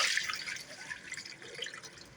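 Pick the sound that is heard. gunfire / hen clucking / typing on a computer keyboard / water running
water running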